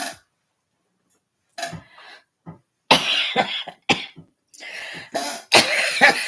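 A woman at a bar gives a series of harsh, close coughs in irregular bursts, with throat clearing and short pauses between them, building into a sustained coughing fit.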